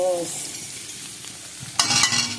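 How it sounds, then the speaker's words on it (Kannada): Garlic, onion and fenugreek frying for a Mangalore-style country chicken curry, a loud close sizzle with a burst of stirring and scraping near the end. "ಮೆಂತೆ ಎಲ್ಲ ಹಾಕಿ ಚೆನ್ನಾಗಿ ಫ್ರೈ ಮಾಡ್ತೀನಿ"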